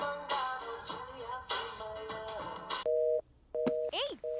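Telephone ringback tone in a Telugu movie scene, heard while a call is placed: a voice speaks first, then clear, repeated electronic beeps pulse in short, evenly spaced bursts near the end.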